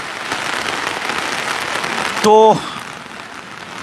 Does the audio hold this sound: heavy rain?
yes